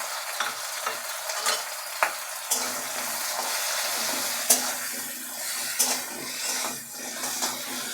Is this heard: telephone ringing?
no